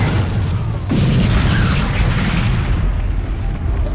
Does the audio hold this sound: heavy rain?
no